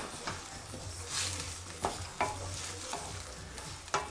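Mushroom risotto simmering in broth over a reduced gas flame, with a low steady burner hum under soft bubbling and a few scattered light clicks and knocks from the pan, close and fairly quiet.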